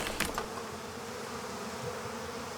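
Honeybees buzzing inside a hive, a dense continuous drone heard close up and fairly faint, with a few brief scrapes near the start and no voices.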